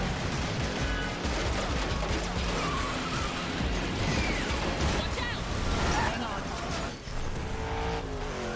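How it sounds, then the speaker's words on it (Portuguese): Loud, dense game action from The Matrix Awakens on Xbox Series X: rapid gunfire, explosions, crashing cars and engine roar blend into a continuous barrage, with no break in the noise. "Agora imagina o tanto de partícula na tela, nessas explosão, tiro, carro quebrando"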